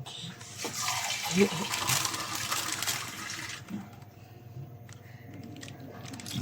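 Water is poured into a cooking pot for chicken sinigang in a home kitchen, a soft splashing fill over the first few seconds that fades into quieter background sounds, with low talk in the room.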